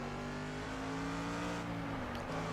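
Engine of a Mercedes race car in Project CARS drones steadily and rises in pitch under acceleration, with a brief dip near the end, a continuous quiet hum free of any voices.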